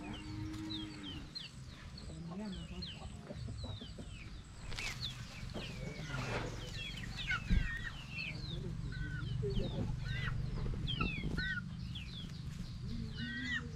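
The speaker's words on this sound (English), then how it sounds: "so these are some of our chicks." Chicks and chickens on a farm cheep and cluck constantly in the background, many high peeping calls overlapping, with cattle lowing and occasional thumps nearby.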